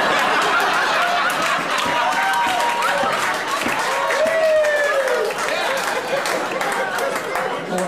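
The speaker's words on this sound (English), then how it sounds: "More men clap at that joke than women." A comedy showcase audience bursts into sustained applause and clapping mixed with cheers, whoops and some laughter, loud and dense throughout the whole stretch.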